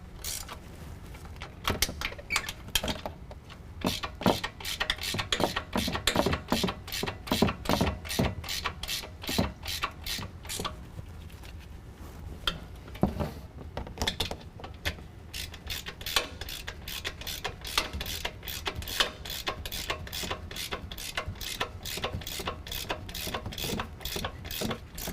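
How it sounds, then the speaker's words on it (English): A ratchet with a 16 mm socket tightens the top strut mount nuts on a 2019 Dodge Ram 1500 during a Superlift 2-inch leveling kit install. Fast, steady pawl clicks run close and continuous, with brief pauses between runs of strokes. "with a 16 millimeter, we're going to go ahead and tighten down the nuts at the top of our strut mount"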